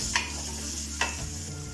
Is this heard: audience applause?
no